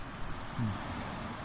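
Powerful sea waves at the seaside in Torcross churn in a low, steady wash, with a brief deeper thump of surf rising partway through; rough, wind-blown and moderately faint.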